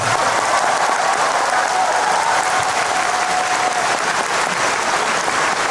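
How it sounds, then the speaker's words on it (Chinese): A large concert crowd applauds in a dense, sustained roar of clapping that holds steady at close range throughout, with faint crowd voices blended underneath. "我听到的掌声是我最好的礼物"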